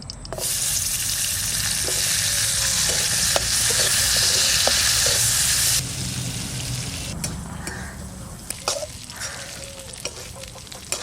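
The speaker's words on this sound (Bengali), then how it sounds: "এবারে কাজু আর কিশমিশটা একটু ভেজে নেব।" Cashews and raisins fry in a spoonful of ghee in a kadai, a loud steady sizzle with scraping stirs that drops to a quieter crackle partway through, with clinks near the end.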